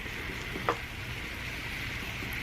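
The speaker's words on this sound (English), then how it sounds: "I want to get them sizzling." Continuous sizzling of Korean rice cakes frying in a hot pan, steady and close, with a brief clink partway through.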